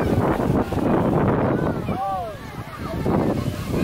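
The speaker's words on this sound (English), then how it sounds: "The wind is just so loud." Strong wind roars across a beach on Castaway Cay island, a loud, steady rush buffeting the microphone for the whole span, with a brief tonal whine in the middle.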